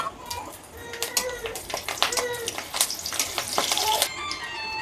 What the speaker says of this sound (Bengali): তেল গরম হয়ে গেছে, আমি কাঁচামরিচ কটা ভেজে নিব।